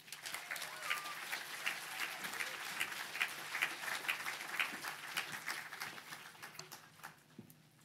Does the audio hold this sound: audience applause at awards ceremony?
yes